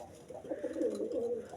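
A Rajshahi pigeon coos softly nearby, a short low throaty warbling call rising and falling over about a second.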